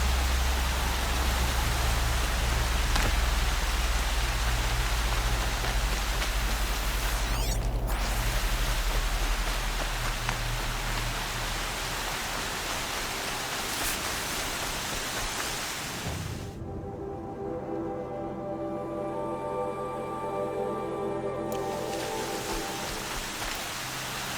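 Heavy rain in the video game Horizon Zero Dawn, a loud, continuous downpour hiss with a low rumble underneath that thins partway through as tonal game sounds rise, no speech.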